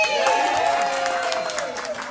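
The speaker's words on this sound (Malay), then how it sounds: "Berikan tepukan kepada diri sendiri." Group at a family day event at a villa in Melaka applauding themselves, a steady, lively patter of clapping with excited voices and cheering mixed in throughout.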